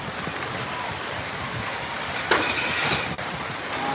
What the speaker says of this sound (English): That rain coming down out here.